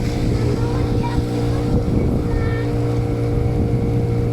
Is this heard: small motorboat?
yes